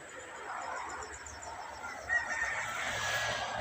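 Outdoor ambience near a beach campground, with distant birdsong and faint rooster calls rising over steady background noise, no close voices.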